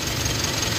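A third-generation Mitsubishi Montero Sport engine idles right after a transmission fluid change, a steady, continuous rumble heard up close with no talk over it.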